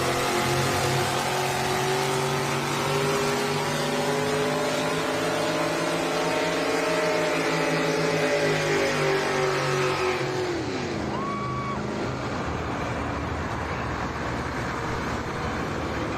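Josh Hansi's Thunderstruck Ford pulling tractor from Bennett, Nebraska roars at full power on the track at a Rock Valley, Iowa tractor pull, a loud sustained engine howl that drops in pitch and fades as the run ends.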